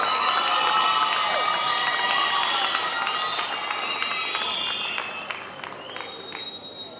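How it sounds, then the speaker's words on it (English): Campaign rally crowd cheering and applauding loudly with shouts and whistles, a dense sustained roar that gradually fades toward the end. "I want to give you a big, big round of applause"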